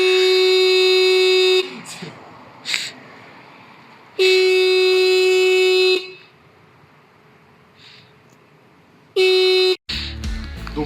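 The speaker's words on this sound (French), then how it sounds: "le klaxon." Horn of a Suzuki GT 185 motorcycle sounds loud and close in three sustained steady blasts, the first two lasting about one and a half to two seconds each and the last one short, with quiet gaps and faint background noise between them.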